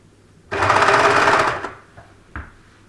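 An overlocker serger stitches around a cardigan neckline in one fast, loud run of about a second, then two short bursts follow after brief pauses.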